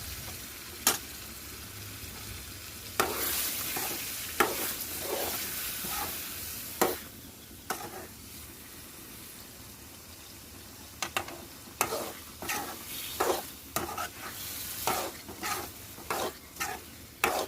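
A spoon scrapes and stirs a potato and bean curry in a hot pan, making repeated sharp clacks and scrapes at an irregular pace over a faint continuous sizzle.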